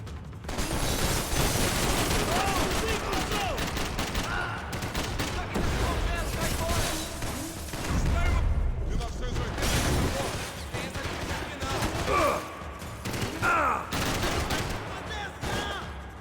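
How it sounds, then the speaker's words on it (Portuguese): Gunfire from both sides in the video game Max Payne 3: dense, overlapping bursts of shots and rapid fire that go on throughout, with someone talking over the shooting. "Tem dos dois lados atirando"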